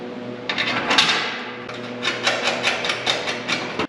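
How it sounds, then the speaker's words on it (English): Sheet metal being bolted onto a 1930 Dodge truck during fender and hood mock-up, a run of sharp metallic clanks and ratcheting taps, close and fairly loud, over a steady low hum. "now I'm going to temporarily bolt this into place"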